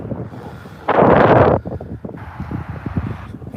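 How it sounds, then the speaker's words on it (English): Wind gusts outdoors at a new Russian housing development, buffeting the microphone in a loud rush, easing, then returning as a softer rumble under faint movement. "Getting a bit windy now"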